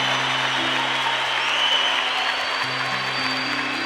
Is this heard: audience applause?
yes